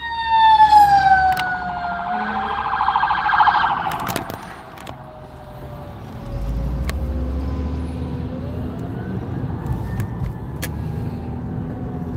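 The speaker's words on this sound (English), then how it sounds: "y'all called the freaking ambulance on me" A loud wailing ambulance siren close by, sweeping up and down in pitch, then fading as an engine rumbles underneath and the tone carries on more distantly.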